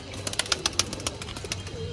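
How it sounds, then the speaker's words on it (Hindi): A pigeon arrives back at a pigeon-flying tournament, with quick bursts of wing flapping and soft fluttering close by over a faint background murmur. "ये आ गया कबूतर"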